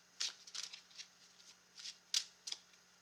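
A deck of tarot cards being shuffled by hand, close and quiet, in several short riffling bursts with gaps between them.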